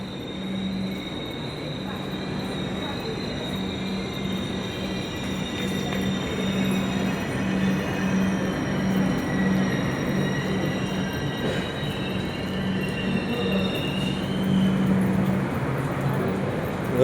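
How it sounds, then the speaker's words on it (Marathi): A Mumbai local fast train to Churchgate pulls in at Virar station, its steady rumbling drone filling the platform with constant rail noise and a faint high metallic whine, loud and continuous throughout. "तर ट्रेन लागली इथं"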